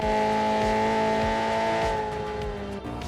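A Honda Integra Type R DC2 accelerates back onto power on a runway, its engine note climbing steadily and loud up close before easing near the end.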